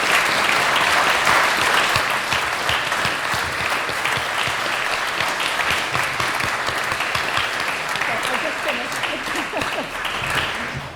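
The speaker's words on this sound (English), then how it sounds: "I think the rest of the planet will probably also join us for a round of applause" Sustained applause from a large audience at an Oxford City Council ceremony awarding the Freedom of the City, dense and steady throughout with a faint voice beneath.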